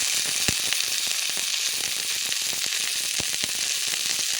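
Ginger paste and spices frying in oil, a dense continuous sizzle with crackling pops, close and steady throughout.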